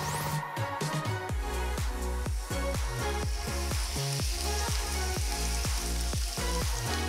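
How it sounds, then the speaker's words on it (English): Fish strips sear in olive oil for spicy tortilla wraps, a continuous bright sizzle running steadily beneath a loud, rhythmic background music beat. "make sure to sear it on both sides in olive oil"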